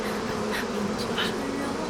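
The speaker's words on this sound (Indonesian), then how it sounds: "Lebah-lebah ini sudah gila." A swarm of bees drones in a low, continuous buzz, steady and fairly faint, with a few brief higher whines passing over it and no voices.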